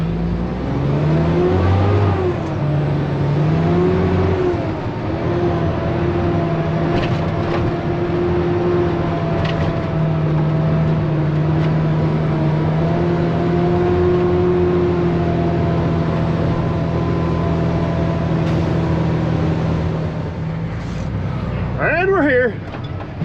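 A tractor making a short run to a load next door, its steady engine drone and low harmonic hum continuing throughout with a brief shift in pitch near the end, while someone talks over it.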